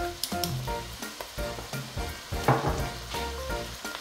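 Shrimp stir-fry with broccoli, mushroom and young corn being stirred in a hot pan: steady close sizzling with repeated scraping and clacking of a utensil against the pan, no voices.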